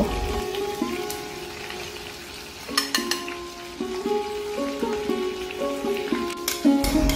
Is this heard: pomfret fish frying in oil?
yes